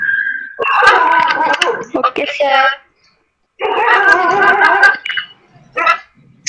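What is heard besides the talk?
dog barking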